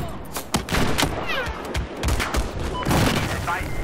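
Rapid gunfire in the video game Battlefield 4, with dense overlapping shots, booms and sharp cracks packed into a few seconds, loud and close.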